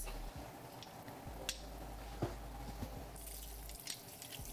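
Faint running tap water and scattered drips as a garlic press is rinsed under a kitchen faucet, with a low steady hum underneath.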